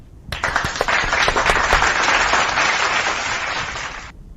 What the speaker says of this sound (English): Let's give the viewers applause too.